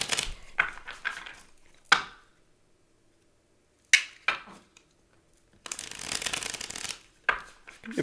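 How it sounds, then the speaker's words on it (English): Tarot cards shuffled by hand, producing several short bursts of riffling and rubbing separated by silent pauses, close and moderately quiet. "So shuffle these cards."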